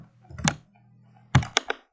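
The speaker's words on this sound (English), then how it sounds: "I apologise if my typing sounds really loud." Loud typing on a computer keyboard, a few close clicks in two short bursts with silence between.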